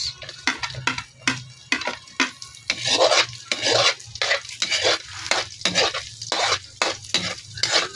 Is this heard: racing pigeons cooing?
no